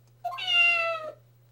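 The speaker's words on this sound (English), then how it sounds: "It sounded like a cat." A single cat meow from the Phoenix Wright video game, a clear drawn-out cry lasting about a second over a low steady hum, with no talk.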